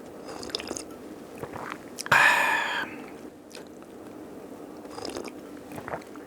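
A loud, crisp bite into a piece of raw ginger lands once, followed by quieter, close-up chewing in a hushed room.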